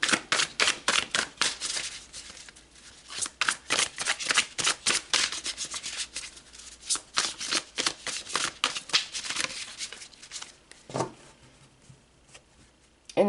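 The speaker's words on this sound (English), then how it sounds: "let's pull some tarot and go deeper" Tarot cards are shuffled close up in a fast run of crisp riffles and rubs that slows to sparse shuffles with a soft thump near the end.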